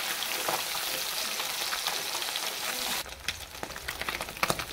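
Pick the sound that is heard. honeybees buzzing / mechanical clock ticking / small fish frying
small fish frying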